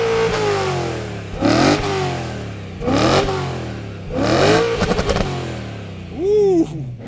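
A BMW E92 M3 V8 engine revs up in three sharp bursts, each rising then falling back to a steady idle, followed by a short final blip; loud, close and with no talking.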